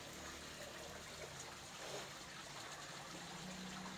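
Water poured onto a potted Aglaonema plant, a soft continuous trickle and splash that stays faint and steady throughout, with no talking over it.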